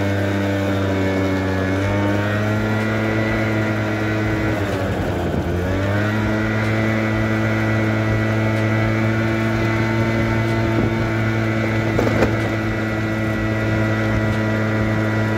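A Peugeot Vivacity scooter engine revving up as it accelerates, a steady close drone whose pitch dips and climbs, heard alone without talk.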